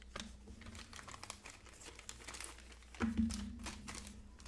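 Shrink wrap being torn and crinkled off a Defenders of the Realm hero expansion board game box, continuous close rustling with a sharper rip partway through.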